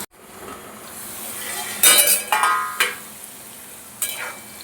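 Potatoes sizzle and fry in a pan, with a few louder bursts of stirring and scraping from a utensil, no talking.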